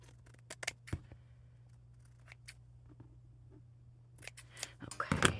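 Scissors snip through material while tags are being made, a few sharp crisp cuts spread out over a steady low hum, growing busier and louder near the end.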